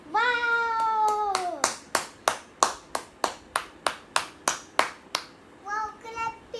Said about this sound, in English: Wow, clapping!